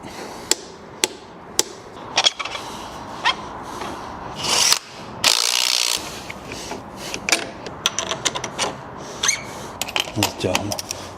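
A ratchet wrench tightens a bolt to 100 newton-metres while a KOVI Lite 300 motorcycle is assembled: sharp metallic clicks and a couple of longer grinding bursts, close by, with a voice speaking in between.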